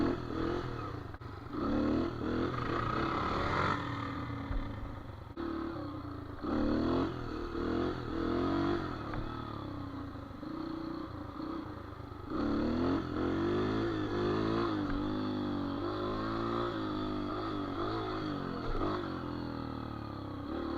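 A dirt bike engine revs continuously while the rider holds a wheelie, a loud buzzing drone that rises and falls in pitch with throttle changes, close and steady throughout with no talking.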